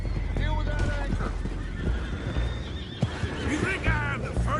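Horses whinnying and neighing in Red Dead Redemption 2, several loud calls over steady hoof clip-clop and a busy game soundscape, close and prominent throughout.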